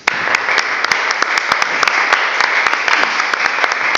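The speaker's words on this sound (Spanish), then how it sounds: "Recibámoslo con un aplauso." An audience applauds steadily for about four seconds at a book talk, many hands clapping in a dense, continuous wash with a few sharper individual claps standing out.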